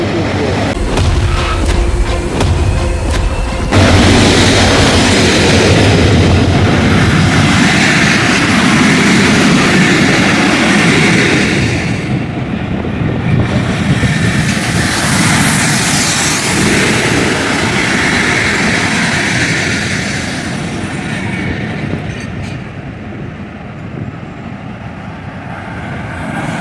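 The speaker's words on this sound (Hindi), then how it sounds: "ट्रेन तो ये रहमान बाबा ट्रेन है, काफ़ी ज़्यादा लेट है।" The Rehman Baba Express passenger train passes Jhampir station in Pakistan with a loud, sustained roar and rumble of wheels and engine filling the air, fading slightly toward the end.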